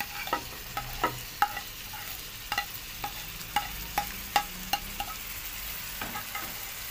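Tomatoes and green chillies with onion, garlic and ginger frying in a pan for a bitter gourd and mince curry, a soft steady sizzle broken by repeated clinking stirs of a spoon, fairly quiet, with no voices.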